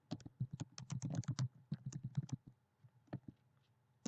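Computer keyboard typed in quick bursts of crisp key clicks, a flurry of strokes followed by a pause and a few more taps; close and fairly quiet, with no talking.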